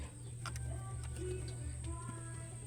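Pigeons coo softly inside a loft, their low calls faint beneath a steady mechanical hum, with a few scattered clicks and no one speaking.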